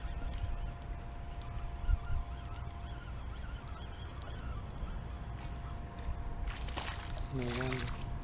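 Large birds honk repeatedly over open water beside the Galveston Causeway during a fishing trip, with a louder burst of calls near the end and a steady background hum of wind and water.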